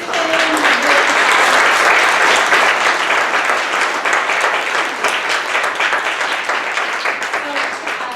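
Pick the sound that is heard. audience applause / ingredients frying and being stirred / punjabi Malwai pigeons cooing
audience applause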